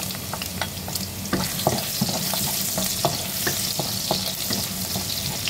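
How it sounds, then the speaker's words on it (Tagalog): Ginger sautéing in hot oil in a pan for a quick stir-fry, a steady close sizzle broken by scattered sharp crackles and pops as the pieces are stirred, with no voices. "Ngayon po ay igisa na po natin ang ating luya."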